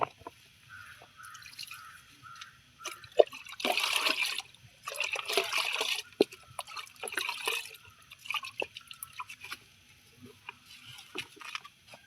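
Liquid plant booster is poured onto seedlings in uneven bursts of splashing and trickling, with scattered drips and small knocks between pours, close and fairly quiet.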